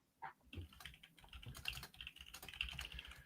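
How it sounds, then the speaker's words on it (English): A sports writer types fast and hard on a computer keyboard during a Steelers post-game show, producing a dense, irregular clatter of key strikes at close range with no speech. "Christopher Carter violently typing his game story"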